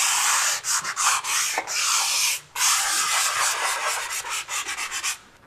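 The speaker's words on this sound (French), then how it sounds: "Je poncerai à la machine." A power sander works over a blistered wall being repaired, giving a loud, close, steady abrasive rasp that breaks off and resumes in short bursts and brief pauses, with no voices.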